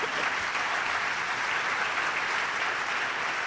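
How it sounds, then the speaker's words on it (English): Steady audience applause at a business summit, a dense continuous wash of many hands clapping, loud and close, with no pauses across the whole stretch. "Clap for these people."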